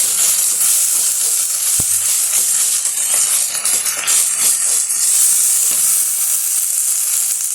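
Ginger garlic paste frying in a pan for liver varuval, a loud steady sizzle with bursts of crackling and the scrape of stirring, close up and without talk.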